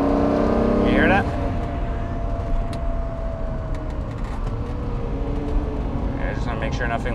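Lamborghini engine and road noise heard from inside while driving, a loud steady rumble and roar that continues throughout the clip.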